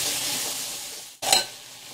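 Tomato masala with cashews and green chilies sizzles steadily in a pan. A stirring scrape briefly cuts the sound before the frying hiss returns, close and moderately loud, with no voices.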